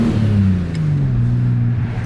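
A Ford AU Falcon accelerates hard through the gears, its engine note a loud, close, steady drone sweeping down in pitch over two seconds.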